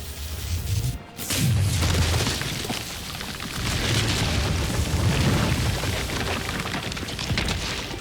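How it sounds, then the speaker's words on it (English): Rail weapon firing in the video game Resident Evil 3, a loud, sustained roaring blast with a deep booming low end and crackling texture, briefly cut off by a sharp break before surging again and rumbling on. "God, I love rail weapons."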